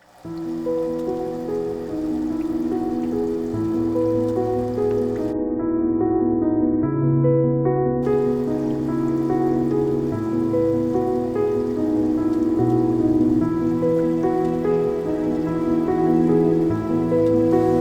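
Water pours into a betta fish tank in a steady, close, continuous splashing and trickling that runs unbroken with no voices.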